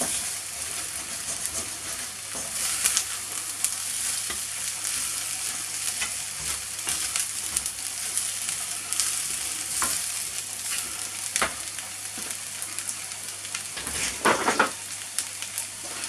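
Egg fried rice stir-fried in a pan over mid-heat: a steady sizzle with repeated scraping and stirring strokes, and a louder scrape near the end.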